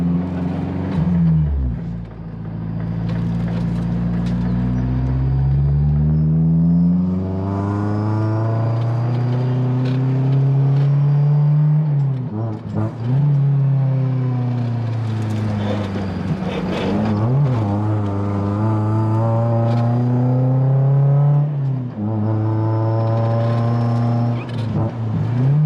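A Honda S2000 time-attack car drives and revs continuously from inside the cabin, its engine note loud and close, climbing and falling through repeated sweeps as it accelerates and shifts, with a brief low idle near the start.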